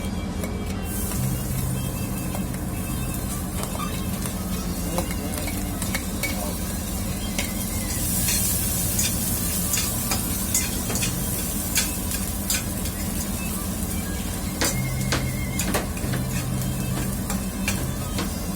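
Garlic fries in a little oil for chicharon in mung bean soup, a continuous close sizzle broken by frequent sharp scrapes and clinks of a utensil stirring against the pan, with no voices.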